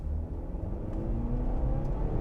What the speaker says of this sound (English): All right, let's put it in sport. We'll do a little 0 to 60 miles an hour run here.